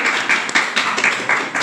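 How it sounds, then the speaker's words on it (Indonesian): Clapping from a small audience at a podcast recording, a short run of bright, rhythmic claps close to the microphone, fairly loud and without talk. "Tepuk tangan dulu dong."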